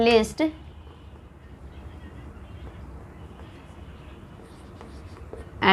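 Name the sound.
writing during a maths lecture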